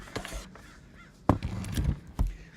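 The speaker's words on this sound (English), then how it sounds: "Those crows are going crazy." Crows caw loudly in a few separate bursts of harsh calls, several birds calling close by in an outdoor setting.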